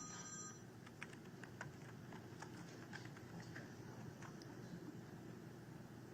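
A witness's mobile phone rings in a courtroom during a trial, repeated short tones sounding faintly over a steady room hum with no talking.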